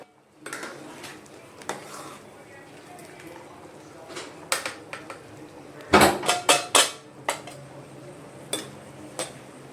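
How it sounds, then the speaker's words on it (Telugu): Onion, green chilli and tomato being cut on a board, scattered knife taps early on, then a quick cluster of sharper chops in the middle, with a voice speaking softly underneath. "ఒక పెద్ద ఆనియన్, 1 పచ్చిమిర్చి, 1 టమాటో కట్ చేసి పెట్టుకో"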